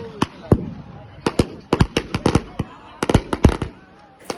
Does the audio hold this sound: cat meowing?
no